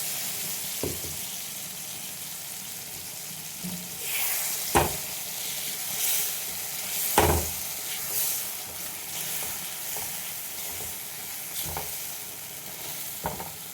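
Mustard, green chilli and poppy seed paste sizzles softly in a pan, a low continuous hiss broken by a few scraping stirs and clinks, close and fairly quiet.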